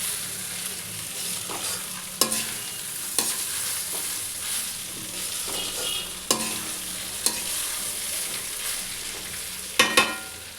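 Rice frying in a pan for pulao, with a continuous sizzle and hiss and occasional sharp scrapes and clicks from a spoon stirring, close and steady with no voices.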